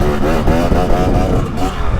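A KTM 300XC two-stroke dirt bike engine revs up close, rising and falling through a brief throttle sweep with a raspy, buzzing tone.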